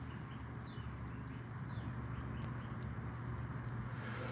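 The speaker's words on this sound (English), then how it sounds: "you hear those birds? Those pretty, pretty birds." Outdoors, birds sing a few faint, thin, downward-sweeping chirps, distant and sparse, over a constant low ambient hum with no talking.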